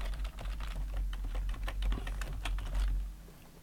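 Rapid clicking of keys on a computer keyboard as commands are typed in, an uneven burst of close, crisp keystrokes over a low hum.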